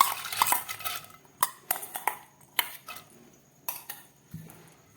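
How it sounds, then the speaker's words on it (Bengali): Dry lentils are tipped into a metal pressure cooker, giving a cluster of rattling clinks and scrapes followed by several separate metallic knocks and taps, close and sharp with quiet gaps between. "এবার এর মধ্যে এই ডালটা দিয়ে দিচ্ছি।"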